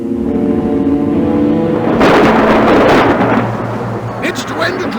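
A thunderclap from a storm in the Playtoons 2 point-and-click game. A loud, rumbling crash breaks in after a sustained tonal drone, then fades into softer rain-like noise.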